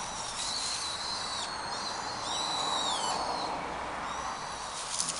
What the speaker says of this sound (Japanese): 天気がいいのでね、鳥の鳴き声聞こえますかね。